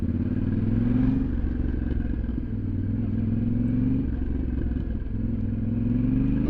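A Yamaha Tenere 700 rolls along slowly in second gear, its engine a steady, close low drone with gentle rises and falls in pitch as the throttle eases on and off, with no one talking.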